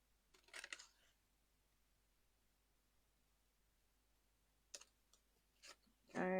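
Quiet snips of scissors cutting through cardstock, a short burst early on and a few more later, with long silent pauses between.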